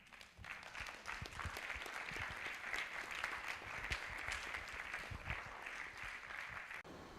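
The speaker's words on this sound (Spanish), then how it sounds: "Dele un aplauso al Señor." Steady, dense applause from a congregation at an apostolic church congress fills the whole stretch, many hands clapping at a fairly even level with no voices on top.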